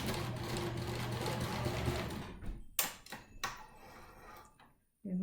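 Sewing machine stitching a fabric face mask, a fast rhythmic whirring run of stitches for about two seconds, then scattered short clicks and bursts as the machine stops and restarts, close and moderately loud.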